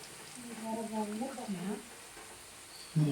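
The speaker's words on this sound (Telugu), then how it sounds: "ఆయిల్ బాగా వేడి కావద్దు మీడియం ఫ్లేలో ఉంచి వేసుకోవాలి గోల్డ్ కలర్ వచ్చేలాగా కాల్చుకోవాలి" Gavvalu snacks deep-fry in hot oil on a medium flame, a soft steady sizzle running beneath a voice, with a louder clatter near the end.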